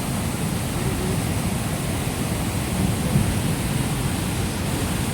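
Rain falls steadily during a slippery downhill trek, a dense, even hiss with no breaks that stays close and fairly loud throughout.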